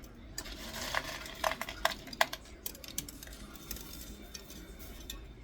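Cowboy spaghetti being stirred in a pot, with a run of sharp clinks and scrapes of a utensil against the metal over a low background hum, irregular and fairly close.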